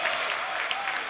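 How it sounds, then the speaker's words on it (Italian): Home crowd applauding at a federal handball centre after a Serie A Gold match, a dense steady wash of clapping filling the whole moment. "gli applausi da parte del pubblico di casa"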